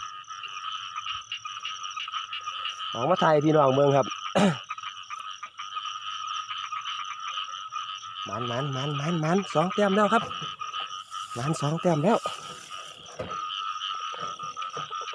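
Frogs croaking during rain in rural Isan, Thailand, loud rhythmic croaking bouts that repeat over a steady insect-like drone, with someone talking between and over the calls.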